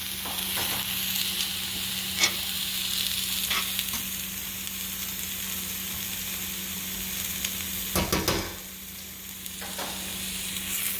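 Shrimp and Spanish chorizo sizzle steadily in a hot pan, a continuous close frying hiss with a few brief clicks and stirring scrapes, nobody speaking over it.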